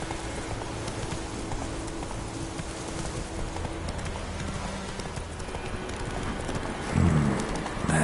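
Roach's hoofbeats in The Witcher 3 pound at a fast, continuous gallop under a dense layer of game ambience, with a brief snort or whinny near the end.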